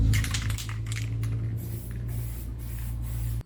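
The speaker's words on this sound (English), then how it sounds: "spray both of these down now" Cleaner sprayed onto car transmission parts on a turbo E36 project car, a steady close hiss with a few short bursts, running continuously for about three seconds before cutting off abruptly.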